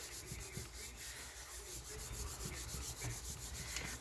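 Paint being rubbed over a Gelli plate print gives a steady, close, scratchy rubbing that continues without a break for several seconds, with no voices.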